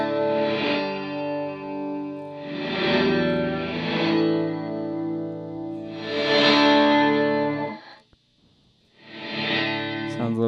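Electric guitar through a Strymon Big Sky reverb pedal, played as four loud sustained chords, each one blooming into a long reverb wash, with a short near-silent gap before the last chord.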